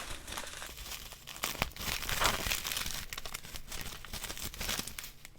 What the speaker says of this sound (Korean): 또 뽁뽁이를 개봉을 해보면